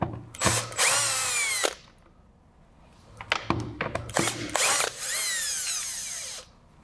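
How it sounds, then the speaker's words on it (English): A power drill backs screws out of the jamb liner of a double-hung window in two long, loud whirring bursts, with short clicks and handling noises between them. "I'm going to take all the screws out."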